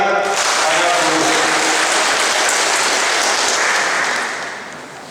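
A large gathering applauds the teacher in a loud, dense burst of clapping that holds steady, then fades near the end, with voices mixed into the crowd noise.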